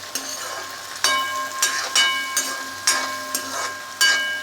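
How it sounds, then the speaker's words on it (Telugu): Gongura dal ingredients are stirred in a pan with a spatula, producing a steady rhythm of about eight sharp scraping strokes over a soft background sizzle, close and clear, with no voices. "ఒకసారి కలుపుకుంటున్నాను నేను"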